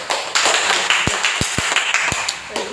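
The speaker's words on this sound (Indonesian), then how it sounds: "Oke, kita kasih aplaus." Scattered hand claps from an indoor group, a few sharp distinct claps over a light steady patter, with no talk.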